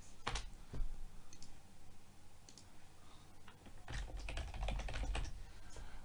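Computer keyboard typing in an office setting, a loose run of clicky keystrokes that thins out mid-clip, then returns as a denser, louder burst of taps near the end.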